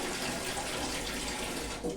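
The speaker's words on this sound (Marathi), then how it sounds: "याच्यामध्ये आपण पाणी घालून घेऊया" Water is poured into a pot of green moong dal khichdi in a steady, continuous gushing splash that lasts throughout and fades slightly near the end.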